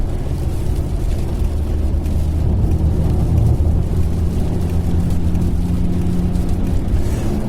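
A car engine that is half of a V8 carries a whooping, V8-like note. It holds a steady, loud, low rumble with a slight swell in the middle.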